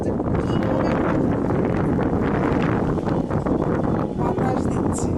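Wind blowing hard across the microphone outdoors, a constant loud rushing roar with gusty buffeting, with faint voices underneath.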